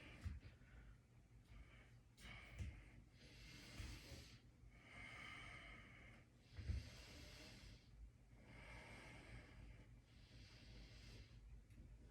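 Slow, deep breathing during a yoga pose: quiet, close inhales and exhales repeat in a steady cycle a few seconds apart, with no talking.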